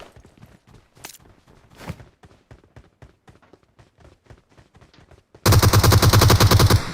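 Automatic gunfire in PUBG Mobile: a light patter of small footstep-like taps gives way to a loud, sustained burst of rapid shots lasting about a second and a half at the end.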